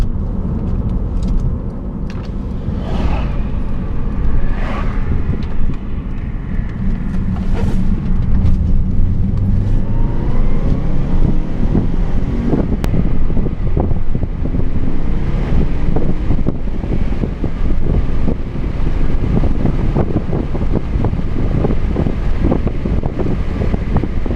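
Subaru Legacy GT fitted with a Cobb SF intake pulling up an on-ramp with a window cracked, a steady loud engine and road roar mixed with heavy wind buffeting throughout.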